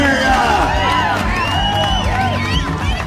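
A street crowd at a strongman competition cheers and whoops in a loud, continuous swell, with voices mixed into the noise.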